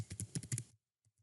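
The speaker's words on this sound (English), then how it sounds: "we'll go ahead and keep typing" Keys clatter on a computer keyboard in a quick burst of close, crisp clicks, then stop, followed by two faint isolated taps after a short silence.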